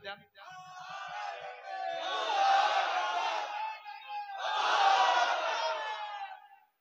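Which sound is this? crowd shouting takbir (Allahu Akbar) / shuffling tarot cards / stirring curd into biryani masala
crowd shouting takbir (Allahu Akbar)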